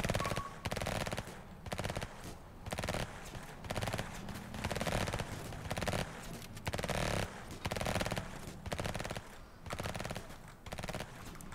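Automatic gunfire in the game Emergency 2024 rattles in repeated bursts, loud and close, separated by brief pauses throughout.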